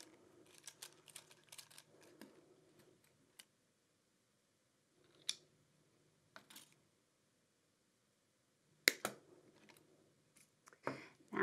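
Wire cutters snip 18 gauge rose gold tone jewellery wire: a series of small clicks and handling noises, sharp isolated snaps and a louder metallic clack near the end, close and quiet with pauses between.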